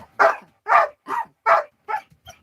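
A dog barks six times in a quick, evenly spaced series, close and loud, with the last two barks softer and shorter.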